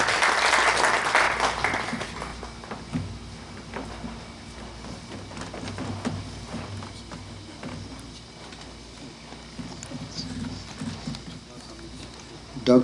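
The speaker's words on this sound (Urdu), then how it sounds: "تو میں آپ کی زوردار تالیوں کے ساتھ دعوت دیتا ہوں" Audience applause at an Urdu literary tribute event, a steady broad patter at moderate level, loudest at the start and thinning out later, with talk mixed in underneath.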